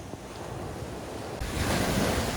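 Sea waves wash onto a narrow pebbly beach in Greece, a steady surf hiss under light wind that swells as a wave breaks near the end, no voices.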